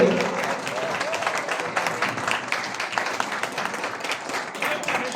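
An annual day celebration at a computer education institute fills with applause honoring a teacher, a dense run of clapping from a crowd, moderately loud and steady with some voices mixed in.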